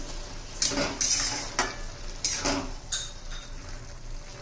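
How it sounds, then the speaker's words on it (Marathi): Soaked moong dal being stirred into a drumstick leaf stir-fry in a pan, with a steady background sizzle broken by repeated scraping strokes of a spoon against the pan, fairly close and moderately loud, no talking. "व्यवस्थित मिक्स करूया"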